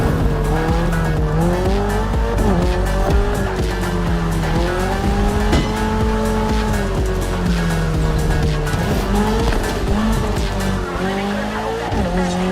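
Toyota GR86, a lightweight naturally aspirated car, racing through neon-lit city streets in The Crew: Motorfest with a loud continuous engine that rises and falls through gear changes while the tires squeal and skid through corners.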